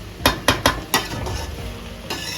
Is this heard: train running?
no